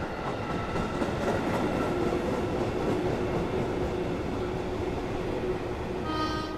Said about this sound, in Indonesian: Pada perjalanan naik kereta api Sembrani pagi ini